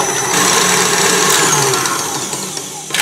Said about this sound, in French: il faut fouetter la crème petit à petit, tout en augmentant la vitesse